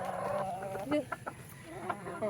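A heritage free-range hen clucks in short, uneven bursts at close range, with other farmyard chicken sounds in a quiet outdoor background.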